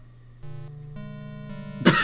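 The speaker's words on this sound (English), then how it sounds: "I just had to cough." A single sharp cough bursts out at the very end, over steady Super Mario Bros. 3 game music playing in the background.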